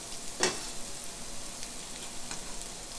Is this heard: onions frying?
yes